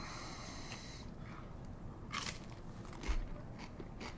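Crunchy tortilla chips dipped in queso cheese dip and sour cream are bitten and chewed up close, with a few crisp crackling crunches over quiet background.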